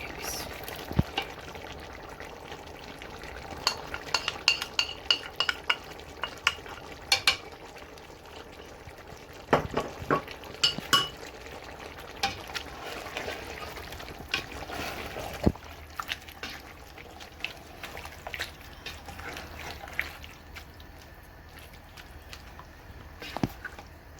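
Tomatoes fry in chicken do pyaza, a steady soft sizzle running throughout with frequent clicks and scrapes of a spoon stirring the pot, close and without talk.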